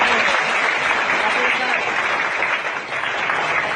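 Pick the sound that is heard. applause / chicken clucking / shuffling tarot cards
applause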